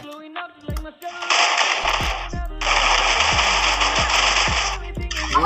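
Automatic gunfire in the video game Free Fire: loud rapid-fire bursts with brief gaps between them, close and dominant, amid other game effects.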